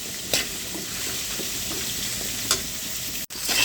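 Okra tossed into a pan of chicken seasoned with turmeric and salt, giving a steady close sizzle of frying with a few sharp stirring clinks and scrapes.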